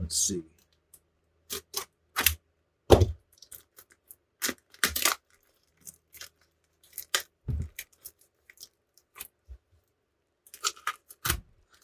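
Sharp intermittent crinkles, snips and crackles as a plastic package holding an A20 coil pack mount plate is cut and pulled open, close by, in separate bursts with silent gaps and a few brief muttered words.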